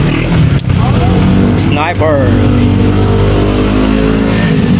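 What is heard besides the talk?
Japper Sniper's motorcycle engine revving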